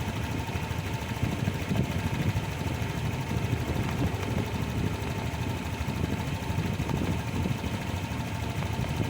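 A Honda Click 150 scooter with a throttle position sensor issue idles while warming up, giving a steady, moderately quiet engine hum with a faint ticking texture and no talk.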